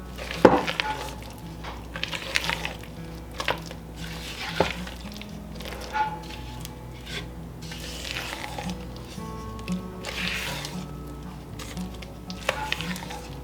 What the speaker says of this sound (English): we're just going to fold these into the cake batter